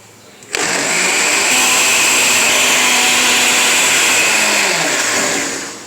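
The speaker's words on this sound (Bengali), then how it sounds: "এখন আমি আবার ব্লেন্ড করব" An electric blender whirs through borhani, a spiced yogurt drink. The motor starts abruptly and holds a loud, steady, close-up whine for about five seconds before easing slightly at the end.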